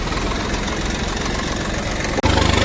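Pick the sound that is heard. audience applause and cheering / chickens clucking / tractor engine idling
tractor engine idling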